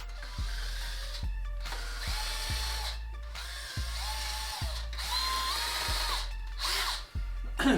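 A power drill enlarging holes in a plastic Lifetime kayak for rod holders, the motor whining in repeated short runs separated by brief stops, each start spinning up sharply, close and fairly loud.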